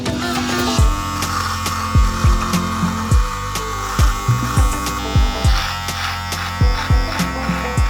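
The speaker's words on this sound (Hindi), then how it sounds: "डायरेक्ट ट्रिमर मैं इस पे चलाऊंगा" A steady electric trimmer buzz runs throughout, with repeated sharp low thumps at a fairly regular rhythm, close and loud.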